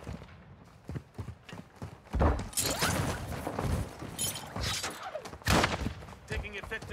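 Rapid gunfire in a Call of Duty DMZ match, crackling in dense overlapping bursts amid clattering game noise, with voices talking over it.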